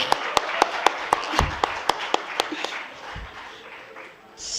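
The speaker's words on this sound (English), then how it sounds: "Give him a round of applause." Audience applause at a corporate quiz finals, crisp individual claps ringing out in a steady rhythm at first, then thinning out and fading as the room settles, with a faint voice underneath.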